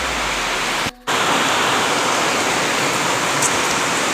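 Steady, dense hiss of rain falling in Diphu, close and unbroken except for a brief cut near the start, with no voices.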